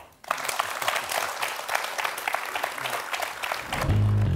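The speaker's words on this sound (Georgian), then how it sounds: "აპლოდისმენტები." A studio audience breaks into applause on a Georgian medical talk show, a dense burst of clapping close and steady for about four seconds, with no voices over it.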